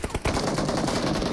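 Fast automatic gunfire in PUBG Mobile, a dense rattling burst that runs close and loud after a few quick opening shots, with no talking.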